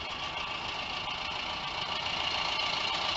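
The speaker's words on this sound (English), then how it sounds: "And it is literally idling up my 20-degree slope driveway." A vehicle engine idles up a steep 20-degree driveway, giving a steady, moderately loud mechanical drone with a smooth even tone and no voices over it.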